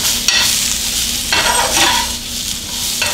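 Greens sauté and wilt in a hot pan beside shrimp for a warm balsamic salad, a close loud sizzle with several scraping stirs of a utensil against the pan.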